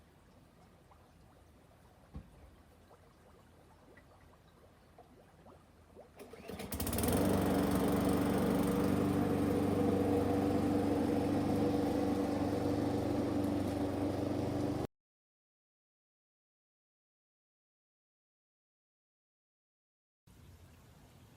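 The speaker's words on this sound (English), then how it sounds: "the next thing is to give it a good mow." A garden lawn mower starts up after a quiet stretch and runs steadily on freshly aerated grass, a loud, even engine drone lasting several seconds before cutting off abruptly, followed by silence and a faint return of ambient noise.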